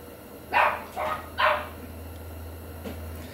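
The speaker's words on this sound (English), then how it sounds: "The dogs are going crazy." Several dogs bark in three quick loud bursts, then one softer bark follows, heard indoors near a garage over a steady low hum.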